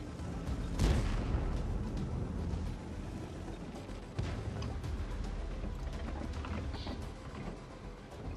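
A tank cannon fires in World of Tanks during a KV-85 versus KV-1s match, one heavy boom near the start and another around the middle over a continuous rumble of engine and battle noise, with no talking.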